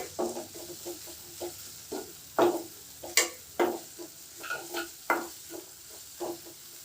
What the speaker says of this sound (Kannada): ಹಸಿ ವಾಸನೆ ಎಲ್ಲ ಹೋಗೋ ಥರ ಇದನ್ನ ಸ್ವಲ್ಪ ಫ್ರೈ ಮಾಡ್ಕೋಬೇಕಾಗತ್ತೆ